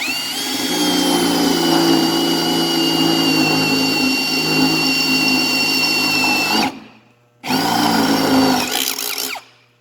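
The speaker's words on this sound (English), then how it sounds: "I'm going to drill this last one here" A power drill whines steadily at high speed while boring a hole, loud and close, stops briefly, then spins up again for a couple of seconds before cutting out.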